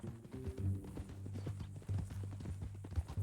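Steady clip-clop of horse hooves at a walking pace in the Red Dead Redemption 2 video game, close and continuous over a low, droning in-game ambience.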